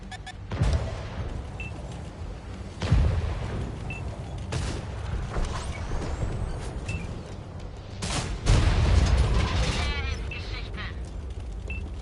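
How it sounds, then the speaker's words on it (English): Fast-firing artillery in the video game World of Tanks booms at intervals of a few seconds, each heavy thump followed by rumble and mechanical clatter, while someone talks over the shots. "That's a fast-firing artillery."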